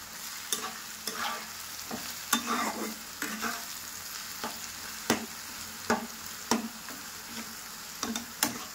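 Food fries in a pan for a quick spicy chatpata dish. A steady sizzle runs throughout, punctuated by repeated sharp scrapes and taps of a utensil at an irregular rhythm, close and clear with no talking.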